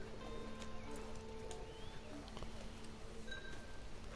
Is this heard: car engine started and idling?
no